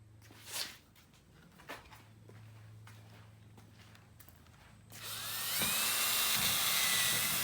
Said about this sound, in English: I'm going to drill through the spine into the PVC pipe.